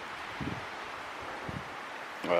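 Wind rushing through trees with rustling leaves, a steady soft hiss and a few brief gusts, with a sharper noise at the end.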